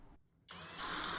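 A power drill drives screws to fix supports to the sides of a painted colonial-style bookshelf case, with a brief pause followed by a close, steady, loud whir.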